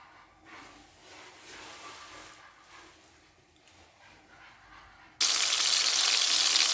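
Liver drops into hot fat for Alexandrian-style liver, setting off a sudden loud, sustained sizzle after a quiet stretch of faint kitchen sounds.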